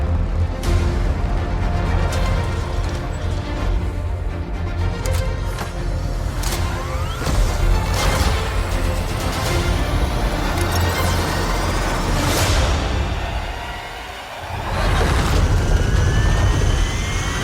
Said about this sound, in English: 3, 2, 1, 0. We have liftoff.